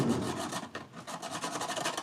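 Edges of a vinyl record backplate for an Ibanez bass guitar filed smooth by hand, quick rapid rasping strokes in a steady back-and-forth rhythm, close and fairly quiet, no speech.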